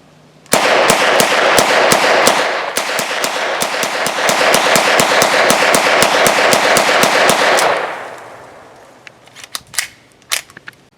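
Semi-automatic fire from an '80s pistol-caliber carbine such as a Calico M950 or Intratec TEC-9 on a shooting range: a fast, evenly spaced string of sharp shots for about seven seconds, then a few scattered single shots.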